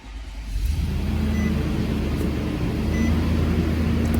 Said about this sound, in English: If you put your foot on the brake and just hit the start button.